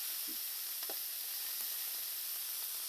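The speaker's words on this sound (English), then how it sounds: "Now here's that great sizzle going." Burger patties sizzle steadily in a pan, a constant bright crackling hiss with a few faint soft clicks near the start, with no voices.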